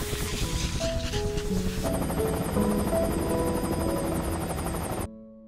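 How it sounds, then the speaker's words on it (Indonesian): A rescue helicopter's rotor chop and engine whine in a zombie film thunder close and steady over a dense rumbling score, then cut off abruptly near the end. "segera dijemput oleh sebuah helikopter"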